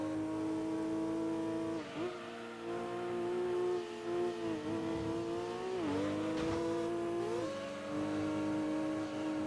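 Race car engine in Gran Turismo 2 holding a steady high drone, pitch dipping and climbing with gear changes through an overtake on a Jaguar, loud and continuous with no talk.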